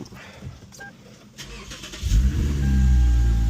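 A Lexus IS350 engine starts up and settles into a loud, steady, deep idle close by, swelling from quiet background noise into a strong rumble with no talking.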